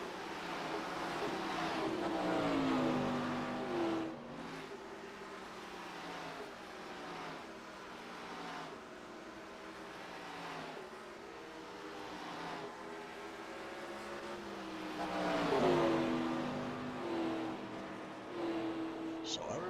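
NASCAR race cars circle Pocono Raceway in the iRacing video game, engines rising and falling faintly as they pass in a couple of distinct sweeps beneath continuous race commentary.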